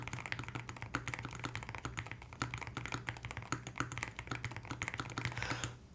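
Steady stream of clicky keystrokes from a stock mechanical keyboard, fairly close and alone, with an even typing rhythm throughout and a low constant hum beneath.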